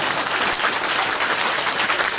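A large seated audience of about four thousand at a year-end political gathering in Taiwan breaks into steady, dense applause, loud and continuous throughout with no talk over it.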